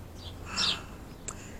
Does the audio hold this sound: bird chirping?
yes